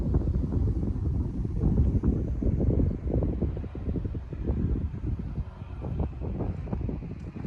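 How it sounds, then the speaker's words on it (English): Strong wind buffets the microphone in constant low roaring gusts during an outdoor cycling workout, rising and falling without a break through the whole stretch. "Actually it's super windy"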